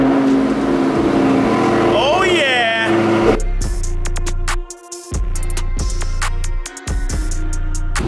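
A Dodge Challenger Hellcat Redeye engine cranks and catches, then roars with loud, aggressive revving and brief cuts in throttle between bursts, close and powerful.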